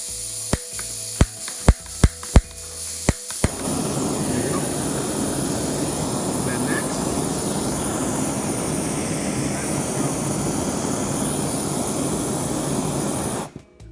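A Jetboil camping stove on Jetpower fuel, sparked by its igniter with several sharp clicks, then lighting into a loud steady roaring burner hiss that runs for about ten seconds before cutting off.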